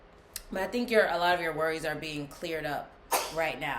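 A man sneezes once, sharply and briefly, near the end, right after a stretch of calm speech.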